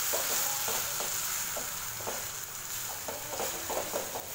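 Coriander paste sautéing in a pan sizzles steadily, with intermittent scraping stirs punctuating the hiss at a close, moderate level.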